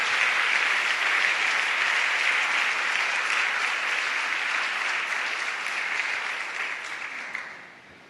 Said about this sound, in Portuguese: Vamos aplaudir a ele, só os que creem.